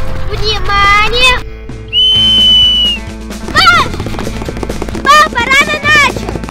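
A girl blows a shrill whistle as a start signal for a home sports test, a sustained tone lasting about a second amid excited family chatter and voices before and after.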